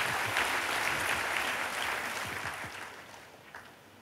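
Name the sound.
audience applause in church service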